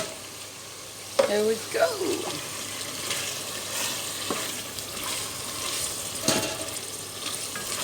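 Tomatoes for a lasagne sauce hit a hot pan and sizzle, with stirring scrapes and clatter over a steady frying hiss; a person speaks briefly in between.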